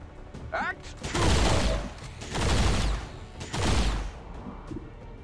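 Gunfire in XCOM 2, three heavy, loud bursts of shots with booming low rumble, each lasting about half a second to a second, separated by short quieter gaps with faint game sounds.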